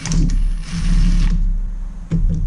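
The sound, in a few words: torque wrench tightening scooter engine bolts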